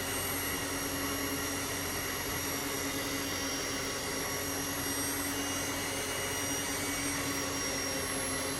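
Resonant power transfer generator running under an electrical load, a steady droning hum with constant tones throughout, even and unbroken, no talk.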